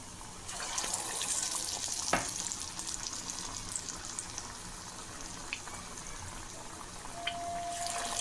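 Egg bonda dumplings dipped in batter and frying in hot oil, a soft steady sizzle and bubbling crackle with occasional sharp pops and clinks of a utensil, no talking.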